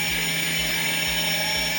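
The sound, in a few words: homemade drone motors spinning, helicopter-like sound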